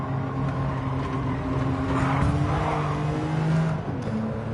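Engine of a Toyota Prius in Gran Turismo 7 racing, a steady droning hum with mild rises in pitch, continuous and fairly loud throughout.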